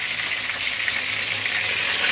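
Eggplant frying in oil in a home kitchen makes a soft, even sizzle, a brief and fairly quiet hiss with no talking.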